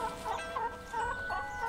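A chicken clucks in a short rhythmic series of moderate, repeated calls over a steady low background hum.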